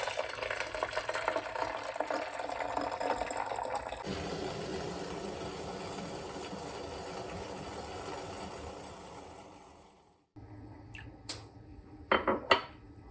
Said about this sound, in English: And I'm going to fill the bottom with water.